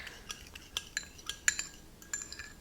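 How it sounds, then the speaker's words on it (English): A metal spoon stirs yeast into milk, tapping and clinking against the bowl in a quick, irregular series of small, close, fairly quiet strikes, with no talking. "I'm going to go ahead and stir this into the milk"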